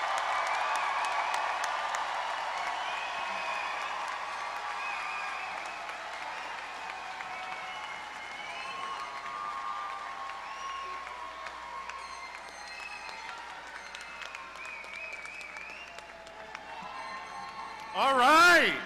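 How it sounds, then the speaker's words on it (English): Long round of applause from a graduation ceremony audience for the Charles W. Davidson College of Engineering bachelor's candidates, a steady dense clatter filling the room, with a voice speaking over it and a louder burst near the end. "I really appreciate the round of applause"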